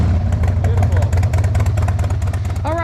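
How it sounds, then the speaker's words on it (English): A Harley-Davidson Sportster motorcycle with a freshly repaired battery and electrical fault runs close by with a steady, low rumbling engine note, and talk briefly sits over it. "Motorcycle runs now."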